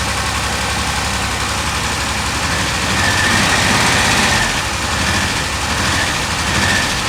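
A Ford Sierra Mk1 4x4 Ghia estate's 2.8i engine idles steadily on original ignition leads, cap and rotor arm, its low rumble carrying a slight uneven misfire throughout, with no talking.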